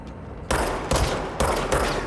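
Gunfire from the video game Control: four sharp, loud weapon bursts in a row, each cutting in hard and ringing out under steady game ambience.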